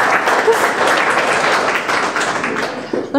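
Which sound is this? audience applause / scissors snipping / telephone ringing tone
audience applause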